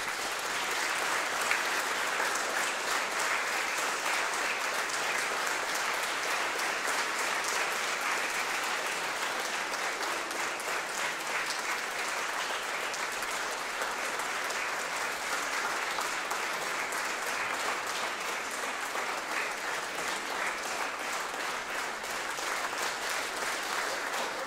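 Sustained applause from a concert audience at a music school's 65th anniversary gala, a thick, even wash of clapping that holds steady for the whole stretch without speech.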